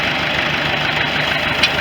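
A 1973 International loader tractor engine runs steadily in low gear while planting sorghum, a loud, continuous, close mechanical drone with no talking over it.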